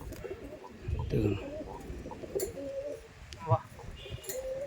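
Soft coos from Madrasi pigeons repeat under a murmur of nearby talk and background noise, with a brief louder burst partway through.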